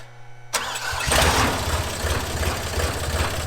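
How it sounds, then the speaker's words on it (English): A farm machine motor cranks and catches after a brief hum, then settles into a rough, steady idle that rumbles loudly and close for the rest of the clip. "Should we make sure our motor starts?"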